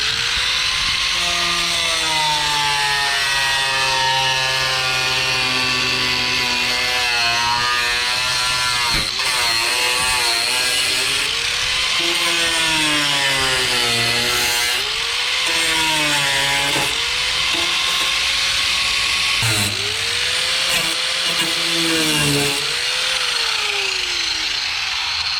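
A power tool whines continuously as it cuts a bigger hole in the sheet metal of a 1968 Ford F100 pickup, its pitch rising and dipping as the cut loads and eases, loud and close throughout.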